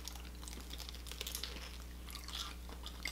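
Close, quiet crunchy chewing of Jollibee fried food, with steady bites and crackles and no talking.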